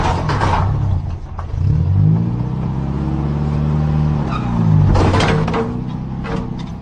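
A car engine revs and strains, its pitch rising and falling in sweeping waves as it labours without success, loud and close with no voices.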